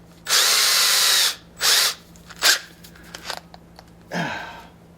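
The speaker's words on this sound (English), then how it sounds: "first we're going to drill pilot holes," A power drill bores 1/8 inch pilot holes in three loud whirring bursts, then a few light clicks and handling noises, followed by a final shorter run that winds down, all close by with no talking.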